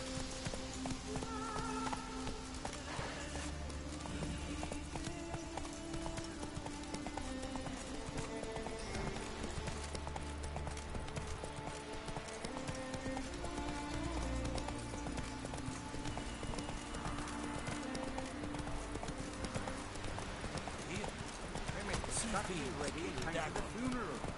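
Hooves of the horse Roach clip-clop steadily at a gallop in The Witcher 3, a continuous rhythmic thudding under game music and ambience, with someone talking over it.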